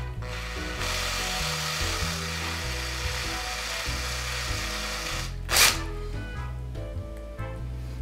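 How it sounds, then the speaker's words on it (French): A drill bores a hole in wood with a steady close whirring grind, a brief sharp burst near the end as the bit breaks through, then the motor eases off. "Oh oui, on a un beau perçage."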